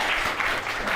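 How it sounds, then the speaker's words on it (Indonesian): Audience applause breaks out at a live show, a brief burst of dense clapping from many hands, loud and close. "Oh, wow, guys tepuk tangan."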